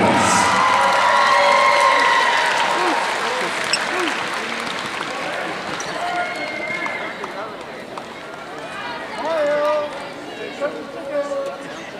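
Arena crowd at a girls' basketball playoff game, a No. 1 versus No. 3 seed matchup, applauding and cheering loudly, with shouts and chatter that slowly fade as the noise settles.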